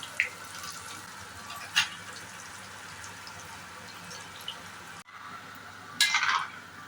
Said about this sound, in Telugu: ఆయిల్ కాగిన తర్వాత ఈ ముక్కల్ని అందులో వేసి ఒక రౌండ్ సేపు వేయించుకోవాలి.